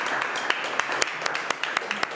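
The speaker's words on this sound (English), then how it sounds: "Big hand of applause." Scattered audience applause after a conference session at a futures event, moderately distant, with sharp individual claps standing out over a soft continuous patter for a couple of seconds.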